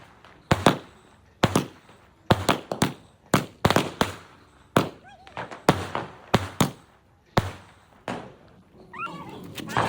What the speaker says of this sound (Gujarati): હવે કાકાએ વળી પાછું સ્કાય શોટ લઈને આવ્યા